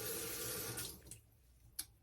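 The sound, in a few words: water running from a tap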